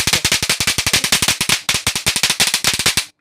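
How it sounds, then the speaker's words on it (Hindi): Eco-friendly remote-operated electronic firecracker device sold in a Delhi Diwali wholesale market, producing a loud, rapid string of crackling bangs in fast rhythmic bursts for about three seconds, with one brief pause midway. "ये देखिए ऐसे पटाखे चटर-पटर फूटने वाले हैं आपके"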